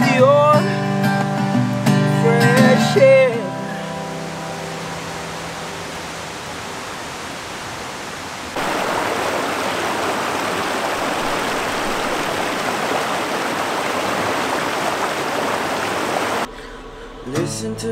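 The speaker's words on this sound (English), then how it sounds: "Listen to the sound of the river flow." A river flowing through woods makes a steady broadband rush that grows louder partway through, after a short burst of music at the start.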